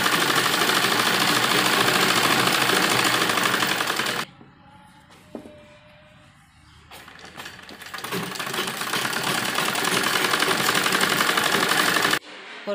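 A sewing machine runs fast and loud, stitching along a folded fabric edge of a baby dress, stops for a quiet pause of about three seconds, then resumes steady stitching before cutting off.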